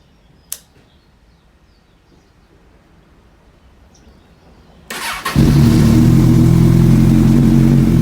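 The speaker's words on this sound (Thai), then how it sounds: "เดี๋ยวเรามาฟังเสียงเครื่องยนต์กันนะครับ" A 2016 Kawasaki Z1000 motorcycle in good condition is started after a faint click and quiet pause, then its engine catches abruptly and holds a loud, steady, close-up idle to the end.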